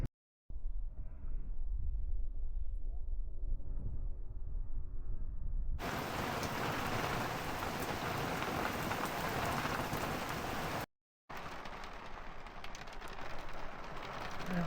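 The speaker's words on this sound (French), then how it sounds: "Alors là, il pleut fort." Heavy rain falling on a boat, first a softer muffled patter, then a loud dense roaring hiss of downpour close by, broken by a short gap.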